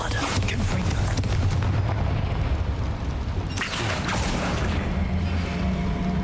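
Bombarda and Confringo spell explosions in Hogwarts Legacy, heavy booming blasts with crackling bursts, one near the start and another erupting around the middle, over a dense, loud game soundscape.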